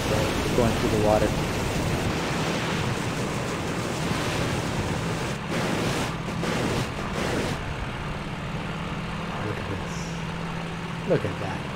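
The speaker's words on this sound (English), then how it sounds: "I love the sound of it going through the water." A vehicle moves through water, giving a continuous wash and splash of rushing water with a windy, buffeting roar and a low engine hum beneath, steady and close throughout, briefly broken by a few louder bursts.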